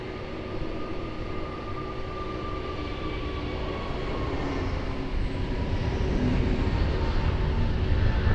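Airbus A321 jet airliner at Lisbon Airport rolling for takeoff, a steady engine roar with a faint whine that gradually builds in loudness over several seconds.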